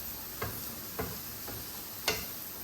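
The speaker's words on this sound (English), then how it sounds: "And we're just gonna saute this, stew or whatever, saute, whatever you wanna call it, for 2 to 3 minutes." Red peppers, green peas, carrots and celery sautéing in a pan for spicy gochujang shrimp fried rice: a steady soft sizzle with a few sharp spatula taps spaced about half a second apart.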